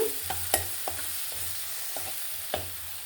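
Small pineapple pieces frying in ghee, a soft continuous sizzle broken by several sharp stirring scrapes and taps of a spoon against the pan, no voices.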